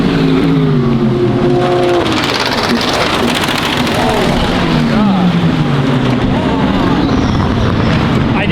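A turbo V6 race car at the 24 Hours of Le Mans sweeps past, its engine note rising and falling in pitch against a steady wash of crowd and track noise, with voices murmuring underneath.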